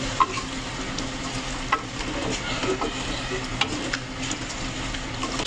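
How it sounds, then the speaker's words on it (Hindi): Spoon stirring salt into a village-style chicken and potato curry, with a steady low sizzle and scraping under faint clatter; no talk. "नमक डाल के मिक्स करेंगे अच्छी तरह।"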